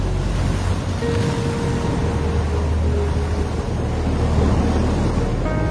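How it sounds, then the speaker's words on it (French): Sea surf at Grand-Bassam beach, east of Abidjan, gives a steady, full roar of breaking waves mixed with wind buffeting the microphone, with no pauses. "la musique des vagues bleutées de la mer"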